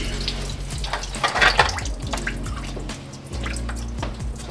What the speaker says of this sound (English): it should come off and leak all over the ground